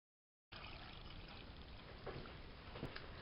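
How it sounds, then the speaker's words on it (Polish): Water pours steadily into a pot of rinsed cabbage, a continuous close splashing trickle that starts abruptly after a moment of silence, with no voices. "Wlewam wodę."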